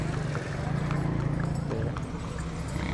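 Horse hooves clip-clop at a livestock market in Ameen Pur where dancing horses are sold, a steady close patter of hoofbeats amid a dense murmur of crowd voices.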